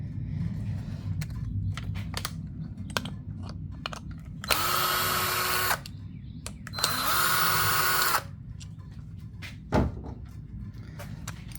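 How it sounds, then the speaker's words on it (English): A power driver loosens the screws on bull ring tie-down hooks in the bed of a 2022 Hyundai Santa Cruz, two short whirring bursts a couple of seconds apart, with light clicks and handling noises in between. "you're going to loosen these screws all the way on both ends"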